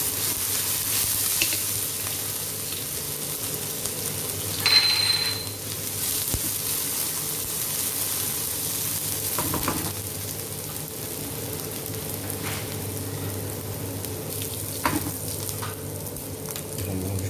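Onion, garlic and ginger frying in hot oil give a steady close sizzle, stirred occasionally with soft utensil scrapes and a few brief clinks.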